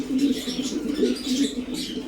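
Racing pigeons at a pigeon farm give repeated soft, throaty coos in overlapping rhythmic phrases, close by, with faint chirps and rustling in the background and no talk.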